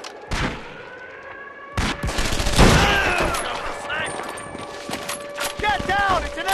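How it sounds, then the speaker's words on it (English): MG-42 machine gun fire in the Medal of Honor: Vanguard World War II shooter, loud bursts and cracks amid battlefield noise with shouted voices and a siren-like tone. "That MG-42 is blocking our way!"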